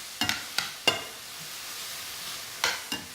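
Food cooking in a pan with garlic is stirred, giving a soft sizzling hiss broken by five sharp utensil taps and scrapes, close by and with no talk.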